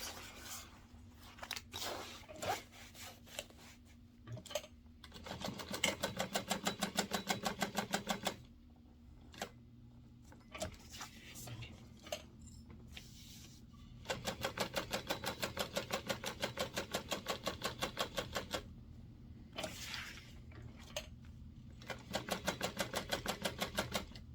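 A home sewing machine basting and topstitching fabric seams, its rapid needle chatter coming in several sustained bursts. Quiet pauses between the runs hold soft handling noises.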